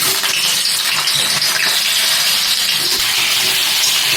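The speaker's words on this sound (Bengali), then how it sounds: "তেল গরম হয়ে গেছে, এরপর এতে আলুগুলো দিয়ে দেবো।" Potatoes sizzle in hot white oil in a wok, a loud steady crackling hiss that fills the whole stretch without a break.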